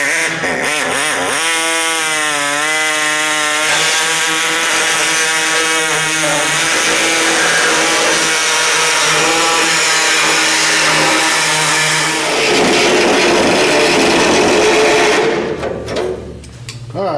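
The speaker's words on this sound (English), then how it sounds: "Now it's time to measure in and cut the old rotten floor pan out." Power tool cutting out an old rusted, rotten floor pan on a classic pickup truck cab during restoration, a loud continuous grinding whine with shifting pitch that runs steadily for most of the clip before cutting off.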